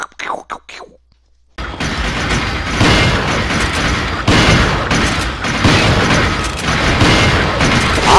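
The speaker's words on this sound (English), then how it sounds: "I was shooting him right in the head." Gunfire from the video game Resident Evil 4 HD rings out as a loud, sustained burst of booming shots and blasts after a brief quiet opening with a few clicks, dense and continuous to the end.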